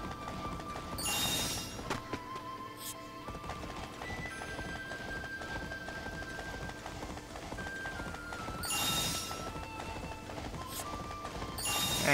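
Horse galloping in the video game Samurai Warriors: Spirit of Sanada, a steady clip-clop of hooves running under layered game music and ambient effects, with louder bursts near the start and end.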